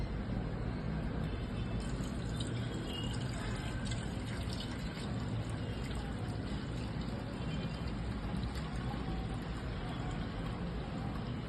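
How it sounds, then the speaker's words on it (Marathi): Thin water is poured off settled wheat extract while making gavhacha chik, producing a steady low trickle and splash that continues without a break, with no talk. "हे वरचं पाणी आपण बाजूला ओतून घेणार आहोत"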